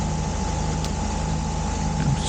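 A weight-shift microlight aircraft engine runs steadily at close range, a constant droning hum that holds an even level with no voices over it.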